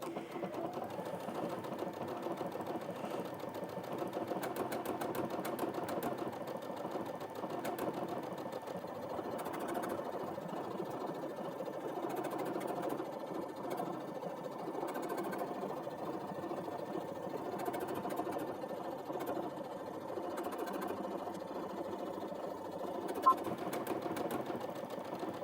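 A Brother Innov-is VQ2 sewing machine runs a stitch program through fabric, a steady, even mechanical whir with a fast rhythmic needle clatter that continues unbroken, fairly quiet and close.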